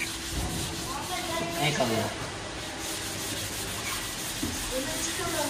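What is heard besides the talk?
wet sanding a headlight with sandpaper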